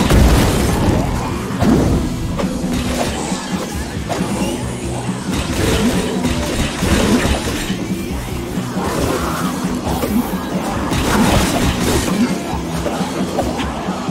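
High Fidelity weapon in Sunset Overdrive firing explosively, repeated booming blasts and bursts over a dense, loud game soundscape throughout.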